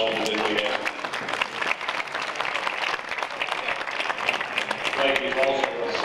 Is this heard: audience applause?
yes